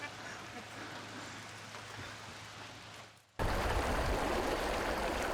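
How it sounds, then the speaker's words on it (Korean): Rushing water from a stream in a Malaysian forest flows continuously as a broadband wash that grows suddenly louder partway through, with no clear talk over it. "물 흐르는 소리 들린다."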